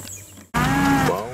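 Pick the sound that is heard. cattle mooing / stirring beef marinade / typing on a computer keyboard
cattle mooing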